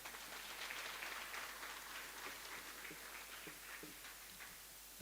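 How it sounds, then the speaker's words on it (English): Audience applause for the Executive Mayor at a public event, scattered claps that blend into a soft, continuous patter, heard faint and somewhat distant and tapering slightly toward the end. "Can we please again give her a round of applause?"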